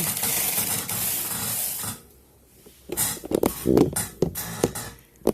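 A knitting machine carriage runs across the needles for a Fair Isle pattern, a steady loud mechanical rasping whir for about two seconds, then quieter clacks and scraping shifts follow.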